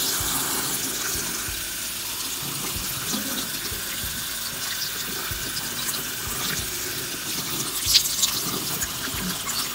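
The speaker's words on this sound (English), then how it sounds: "I suppose, you just rinse it with the hot water. And then you use cold water" Running tap water splashes steadily into a sink while doll hair is rinsed under the stream, with small shifts as it moves and one brief clatter near the end.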